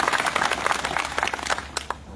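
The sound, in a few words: applause from farmers' rally audience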